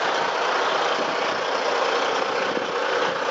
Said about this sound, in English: It's got a 16 litre engine, not 15 litre, 16 litre diesel engine under the bonnet